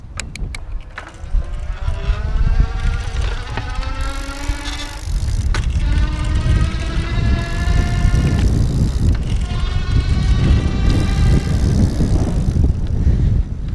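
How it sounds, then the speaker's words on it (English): A 2015 Easy Motion Evo City electric bike's hub motor whines and keeps running after pedaling stops, a steady rising drive tone under wind noise on the microphone. "So watch for when I stop pedaling and listen for that motor, because a lot of times it kind of keeps going for a couple seconds."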